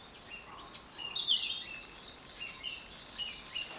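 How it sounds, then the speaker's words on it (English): Several birds sing outdoors on a calm morning, a run of bright, rapid repeated chirps and trills close by, fading into softer, more distant calls with a faint insect hum underneath. "as the birds sing"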